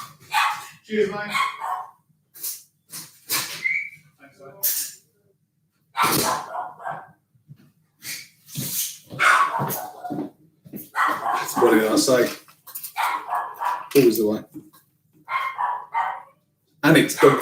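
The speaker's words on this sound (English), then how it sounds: "I bet you the dogs are going to bark." Several dogs bark in sharp repeated bursts at a parcel delivery of dog food at the front door, near and loud, mixed in with a person talking and a brief exchange at the door.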